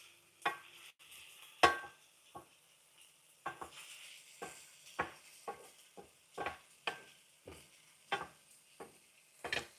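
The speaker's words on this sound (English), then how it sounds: "let me just mix this." Food being stirred in a pan: a series of sharp scraping and clattering strokes in an irregular rhythm, close and fairly quiet, with a soft hiss between the strokes.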